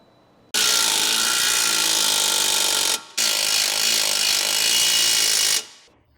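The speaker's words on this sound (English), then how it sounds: "The 18mm deep socket with the impact wrench to tighten the strut to knuckle bolt." An impact wrench with an 18mm deep socket drives the strut-to-knuckle bolt tight on a 2012-2016 Chevrolet Cruze FWD, two loud sustained bursts of whirring hammering close up, split by a brief pause.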